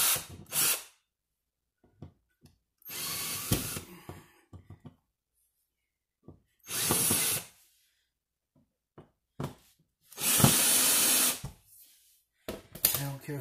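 A power drill drives a screw into an electrical outlet box during an upgrade from a mobile home outlet, several short whirring bursts separated by pauses, with a few light knocks between them.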